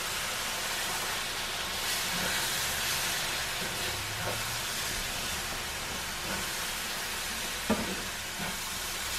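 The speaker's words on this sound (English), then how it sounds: "Now, I'm going to go ahead and add my Rotel diced tomatoes and green chives." Rotel diced tomatoes hit a pan of homemade vegan pasta sauce, giving a steady, fairly quiet sizzling hiss that runs throughout, with a few faint clinks and one sharper knock near the end.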